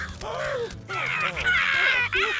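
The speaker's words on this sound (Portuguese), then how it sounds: "E quando Homer discute com os corvos, eles atacam seu corpo inteiro." Cartoon crows caw harshly in The Simpsons as they attack Homer, several squawking calls overlapping continuously and loud, mixed with shouting voices.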